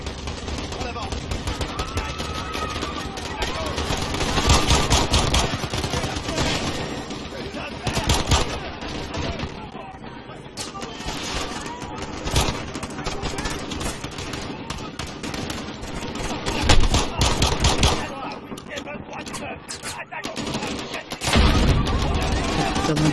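Gunfire in a video game police shootout near Piccadilly Circus: rapid bursts of automatic weapons and scattered single shots crack repeatedly over a dense, loud game soundtrack for over twenty seconds, swelling and easing in waves.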